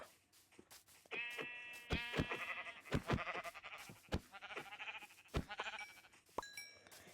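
Sheep in the Minecraft video game bleat repeatedly at moderate loudness, a run of short, nasal calls with some game clicks and pops between them, no talking.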